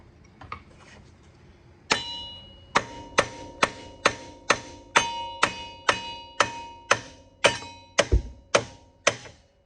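A hammer taps out a part on the front A-arm of a Yamaha Big Bear 350 4x4 ATV, a string of about fourteen sharp metallic strikes at a steady, fairly quick pace, each ringing briefly, close and clear.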